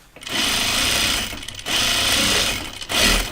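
A sewing machine stitches around the edges of denim overalls in three sustained whirring runs with brief pauses between them, loud and close.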